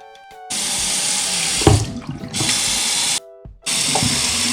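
Water gushes steadily from a faucet just turned on after the shower head was unclogged, cleaned and screwed back in place, a loud hiss that cuts off briefly twice before resuming, with knocks at the fixture.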